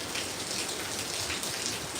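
A steady downpour of monsoon rain in Kozhikode, thick and unbroken, drumming on surfaces nearby with a constant wash of drops and no talking.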